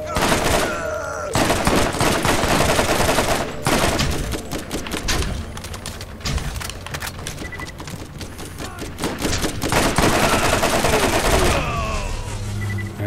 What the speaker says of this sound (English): this machine gun's not that accurate for that far of a distance